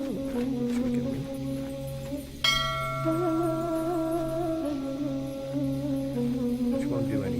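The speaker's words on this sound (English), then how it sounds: "there's a little bell here, which we can ring." A small bell rung in the point-and-click adventure game The New Adventures of the Time Machine, one bright strike with a shimmering, slowly fading ring heard over steady background game music.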